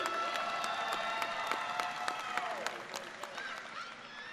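A graduation ceremony audience at Mound Street Academy claps for students earning Lean Six Sigma Green Belt credentials. The applause is moderate, with distinct individual claps and a few whistles, and it tapers off slowly.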